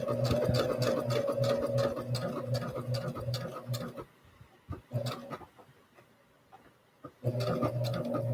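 A sewing machine stitches the seam of a plus-size pajama tee-shirt, a fast, close, rhythmic clatter that stops for a few seconds with light handling noises before running again.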